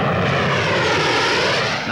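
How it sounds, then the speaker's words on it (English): English Electric P-1 jet aircraft flying past at a 1950s Farnborough airshow, a loud continuous roar heard from a distance and held steady throughout. "Spectators presently had a particular thrill when they saw the English Electric P-1"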